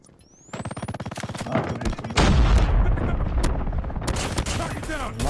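Sustained machine-gun bursts in Call of Duty: Mobile, loud and close: rapid rhythmic firing that swells into dense overlapping gunfire with booming impacts, carrying on without pause and with no voices.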